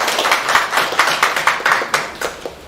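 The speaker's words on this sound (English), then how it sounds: "I think she deserves another round of applause." Applause at a conference, heard as a short burst of rhythmic, fairly loud close claps at a steady beat, sounding like only a few people clapping rather than a full crowd.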